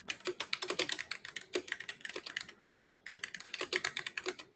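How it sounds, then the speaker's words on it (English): Rapid close typing on a computer keyboard, a dense run of crisp key clicks, then a brief pause before the tapping resumes, quiet and alone. "I like that typing ASMR."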